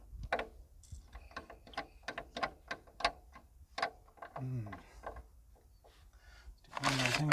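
Hand pumping the fuel primer on an old CAT excavator, a series of quick rhythmic mechanical clicks and squeaks close up, with a brief voice mid-way and some rustling at the end.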